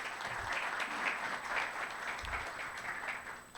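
Applause from the attendees of a development council meeting, a steady crowd of hands clapping at moderate volume throughout, with faint murmuring underneath.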